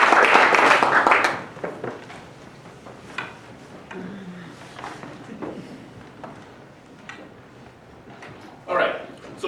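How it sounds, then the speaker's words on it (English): An audience at a talk on cannabis economics in Humboldt County applauds a guest, a short loud burst of clapping that fades within a second or two, followed by someone speaking. "So round of applause for Michael."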